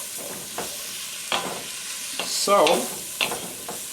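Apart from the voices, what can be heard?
garlic, onions and peppers sautéing in a pan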